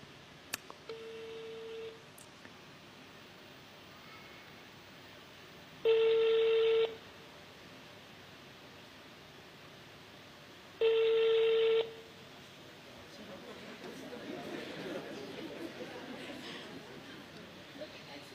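Telephone dialing tones followed by two long ringback tones spaced several seconds apart on a call, with faint murmuring chatter rising toward the end.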